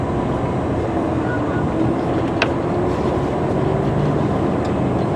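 A train rolls through North Platte's Bailey Yard rail yard as a loud, steady low rumble with faint metallic squeals, heard from on board a bus with people talking over it.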